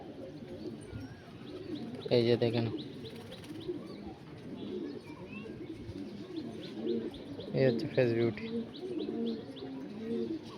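Fancy pigeons coo softly in a loft, low burbling calls rising in two louder bursts, while someone speaks close by throughout.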